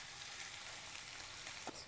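Chillies and onions fry in oil for homemade pani puri, making a steady, dense, quiet sizzle that runs continuously throughout.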